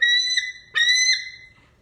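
A bird at a raptor center gives two clear, tonal whistled calls close by, each a sustained note with a rising onset, separated by a short pause, against quiet background.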